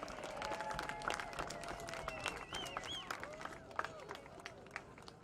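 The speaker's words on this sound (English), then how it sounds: "How about another round of applause for our seniors and family?" Football senior night crowd at Moorhead applauding seniors and their families, scattered clapping and cheering heard faintly at a distance under ongoing stadium noise and voices.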